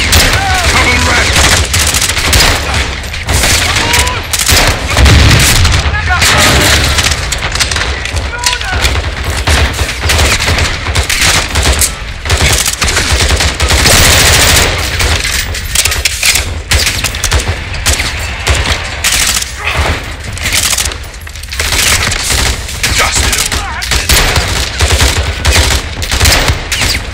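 Loud, near-continuous automatic gunfire from Call of Duty: Modern Warfare 2 combat, with rapid bursts and heavy booms packed densely, while voices talk over the shooting.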